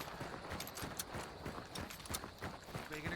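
Footsteps in a video game, a rapid run of close, fairly faint steps with a clopping rhythm over a busy background.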